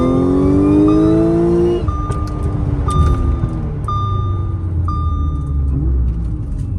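Audi S4 on new EBC Yellow Stuff brake pads runs a quick pull, its engine rising loud and close, then settling into a steady rumble while faint high tones chirp in short bursts.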